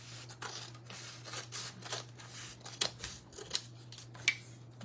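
Scissors cutting through a canvas for a craft project, a series of sharp close snips and crisp crunches that grow more pronounced toward the end, over a low steady hum with no speech.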